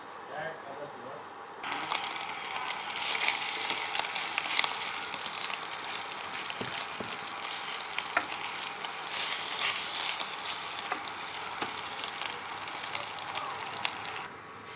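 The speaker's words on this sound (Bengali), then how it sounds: "এবার দেখো আমি কড়া বসিয়ে এর মধ্যে অয়েলটাকে ফ্রাই করছি।" Vegetables frying in hot oil in a kadai for a dry Maggi noodle dish, a steady close sizzle and crackle that starts abruptly after a quiet opening and continues evenly, with occasional clicks of utensils.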